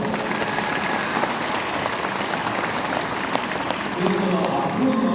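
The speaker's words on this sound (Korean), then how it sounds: "여러분 박수 한번 부탁해요" A large audience at a town-hall dialogue between a provincial governor and Goheung county residents applauds steadily and loudly throughout, with crowd voices mixed into the continuous clapping.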